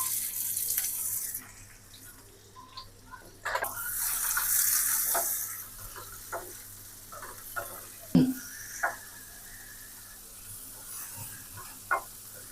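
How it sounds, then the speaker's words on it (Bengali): Shrimp fry in hot oil in a frying pan with a low, steady sizzle, interrupted by a burst of running tap water, then scattered sharp clinks and scrapes. "তেল গরম হয়ে গেছে, মাছটা দিয়ে দেবো।"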